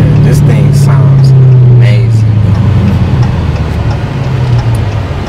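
A 2019 widebody Dodge Challenger Scat Pack runs with a loud, deep engine rumble that drops slightly in pitch. A louder rev comes first and settles toward a steadier idle, and voices speak over it.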